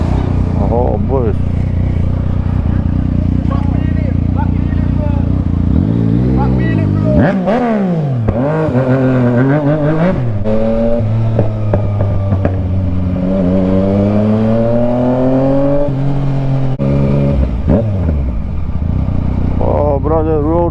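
A Yamaha Tracer 900 motorcycle ridden solo at night, its engine loud and close, rising and falling in pitch through repeated revs and gear changes over a steady road roar.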